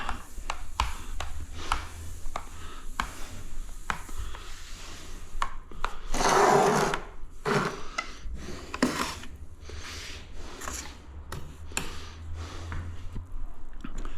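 Sponge wiping fresh grout across a tiled surface after grout-stick work, a steady run of rubbing and scraping strokes with one longer, louder swipe midway, close and unaccompanied by talk.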